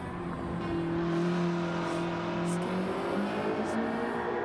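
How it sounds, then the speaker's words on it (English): Lancia Delta HF Integrale Evoluzione from 1991, tuned for a racing video game, its engine holding a steady loud drone with harmonic tones that rise and fall slightly as it revs. "I love the engine noise too"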